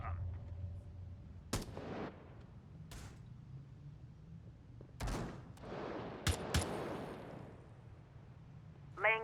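Sharp, scattered bursts of gunfire and explosive blasts in a Rainbow Six Siege esports match, a few loud cracks spaced irregularly over quiet background with faint caster chatter.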